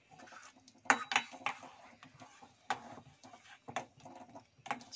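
Walnut kulfi mixture being stirred in a pan, with intermittent scraping and clinking of a spoon against metal in irregular strokes, fairly close and quiet.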